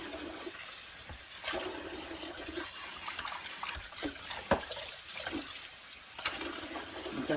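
Running water splashes and rinses over a juicer auger at moderate distance, a continuous wash broken by occasional clinks of the part being handled.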